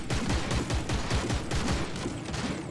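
Gunfire from the video game Shards of War fires as a dense, steady stream of rapid shots, loud and continuous, with no voices over it.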